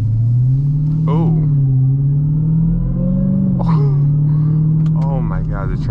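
The engine of a Dodge Challenger Hellcat in 500 horsepower mode rumbles and revs as the car accelerates while driving, a loud, steady drone heard from inside under ongoing talk.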